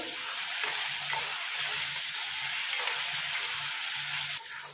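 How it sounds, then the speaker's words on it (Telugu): Coriander and cumin sizzle in generous oil in a pan for a sesame-tomato chutney, a steady close hiss with a periodic low scraping stir about once a second throughout, briefly dropping at the end. "ఇవన్నీ వేసుకొని మంచిగా వేయించుకోవాలి"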